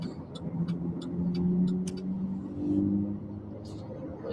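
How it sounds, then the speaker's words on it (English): Log truck hauling a big log, heard from a vehicle following it: a steady low engine rumble that swells and eases, with voices talking over it. "I don't want to be behind the log truck"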